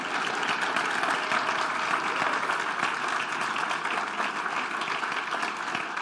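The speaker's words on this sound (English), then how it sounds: "perhaps a round of applause for our moderator" Audience at the World Circular Economy Forum 2022 conference gives a sustained round of applause, a dense, even roar of clapping in a large hall that continues steadily for six seconds without talk.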